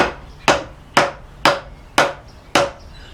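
Six crisp wooden knocks at a steady half-second rhythm as a mallet taps a wooden batten into a chair seat during assembly, each strike sharp and close with a short decay.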